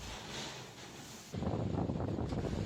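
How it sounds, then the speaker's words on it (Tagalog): Roaring typhoon wind buffets the microphone, surging into a heavier, rumbling gust halfway through, with a constant rushing wash like driving rain, on a street in Romblon, Philippines. "Ramdam ang bagsik ng hangin at ulan."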